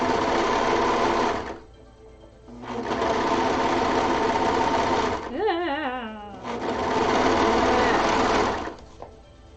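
An overlocker sewing machine runs loudly on fabric in three long bursts, with brief gaps between them and a short spoken or vocal sound in one pause.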